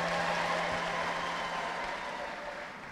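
Church congregation clapping in praise during a preaching service, a sustained mass of hand claps in a reverberant hall that gradually fades toward the end.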